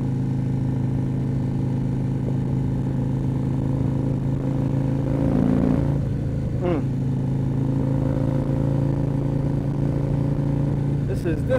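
An Indian Chieftain motorcycle with a 585 cam, riding along as a steady, loud engine drone that stays near and constant throughout, with wind and road noise mixed in.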